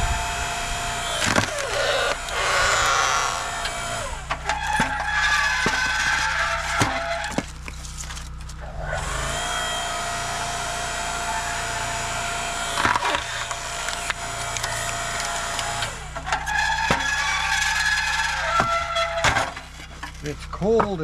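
A wood splitter works through frozen, brittle birch firewood outdoors, with repeated cracking and splintering bursts over a steady mechanical hum, close by and fairly loud.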